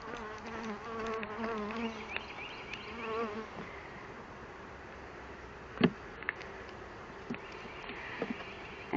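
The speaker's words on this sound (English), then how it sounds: "You could hear them buzzing loudly" Honeybees buzz around an open hive during a spring inspection, a close wavering drone with a few sharp clicks and knocks from handling the frames.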